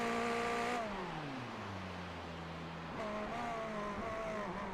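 Ferrari SF1000 Formula 1 car engine at Monza in a racing game, loud harmonic whine that drops in pitch as revs fall through a lift-off, then rises sharply again near three seconds as the engine picks back up.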